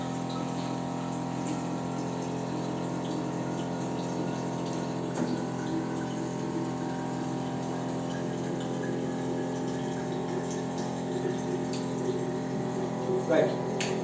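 A Kangen water machine fed by a motor pump runs with a continuous droning hum and steady rushing flow of water, unbroken throughout with a slight swell near the end.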